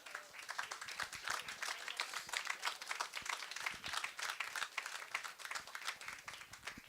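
A small audience at a book talk applauds with dense, steady clapping that lasts the full few seconds at moderate volume and does not fade.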